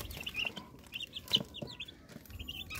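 Young chicks, around eighteen days to over a month old, peep and chirp in a series of short, high calls at moderate volume, with no talking.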